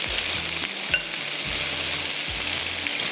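Large fish pieces frying in a pan for a yogurt fish curry, with a loud, dense, continuous sizzle up close and low rhythmic scraping underneath, with no voices.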